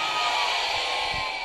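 A crowd at an Islamic religious lecture in Indonesia gives sustained, dense applause and cheering, loud and close, with no break across the moment.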